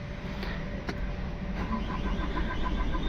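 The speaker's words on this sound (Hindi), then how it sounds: "मैंने इग्निशन ऑन किया है और अभी सेल्फ मारता हूँ," An MG Hector engine with a faulty fuel pump cranks steadily on its starter without catching, a continuous mid-pitched churning drone that stays loud and close throughout.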